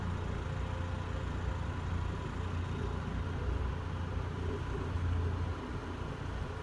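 A car engine near a railway level crossing, a steady low rumble that holds evenly throughout and eases slightly at the very end, with no voices.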